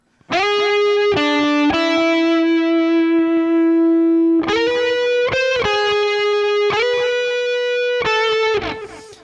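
A sustained electric guitar lead plays the Fortnite theme's chorus part in long held notes with heavy distortion and effects, bending between pitches in a slow, loud melodic line.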